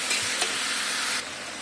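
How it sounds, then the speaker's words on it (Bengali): Okra and prawns stir-frying in a pan, with a close, loud sizzle and the scrape of stirring that drops abruptly in intensity near the end, no voices. "এবার আমি এটা কষবো। ভেন্ডি দিয়ে আর বাদা চিংড়ি দিয়ে হেভি হয়"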